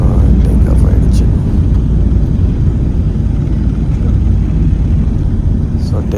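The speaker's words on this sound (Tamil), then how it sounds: "இப்போ டேக் ஆஃப் ஆக போது பாருங்கள், நல்லா ரன்வேல ஸ்பீடாக போயிட்டுருக்குது" An Emirates Boeing 777-300ER races down the runway at Dubai on its takeoff roll, heard from inside the cabin as a loud, steady low roar that holds unbroken throughout.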